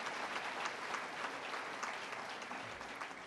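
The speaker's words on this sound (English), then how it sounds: "Yeah, give them a round of applause." Audience applause for award recipients at the Harry Jerome Awards ceremony, a dense, steady wash of many hands clapping together, fairly loud and continuous throughout with no speech over it.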